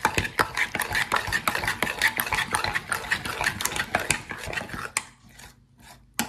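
Spoon stirring mayonnaise and prepared mustard into a bowl of macaroni salad with ham and pickle, a steady run of close, soft scraping and squishing strokes that stops near the end, no talking.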